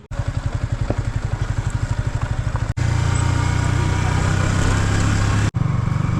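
Yamaha R15 motorcycle riding off-road after crossing the Subarnarekha river, its engine a steady, loud pulsing drone close by with brief breaks.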